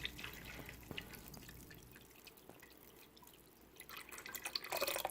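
Water dripping and trickling into a homemade DIY water filter as it is refilled, with soft irregular drips and a brighter splashing pour building near the end, fairly quiet overall.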